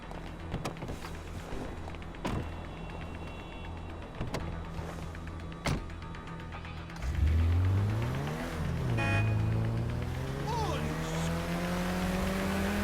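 A car in Grand Theft Auto V starts off with a rising engine whine that climbs through the gears and holds a steady drone, following a few sharp clicks, while people talk over it.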